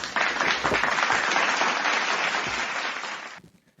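A burst of hand clapping like a round of applause, dense and loud, runs steadily for over three seconds before cutting off abruptly.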